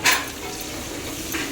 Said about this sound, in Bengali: এখানে পেঁয়াজ ভাজছি